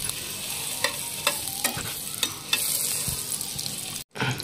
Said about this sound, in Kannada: ಬಟರ್ ಹಾಕೊಂಡು ಇದನ್ನ ಪೂರ್ತಿ ಮೆಲ್ಟ್ ಮಾಡ್ಕೊಳ್ಳೋಣ್ರಿ